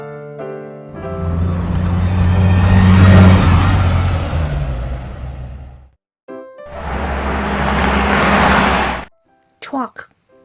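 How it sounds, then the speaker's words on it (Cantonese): A toy truck's engine revs and whirs in two sustained bursts, loud and close, following a short passage of music. "truck"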